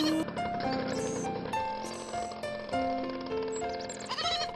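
A reluctant goat bleats several times close by in a rural yard, loud quavering cries with short gaps between them, with no one speaking.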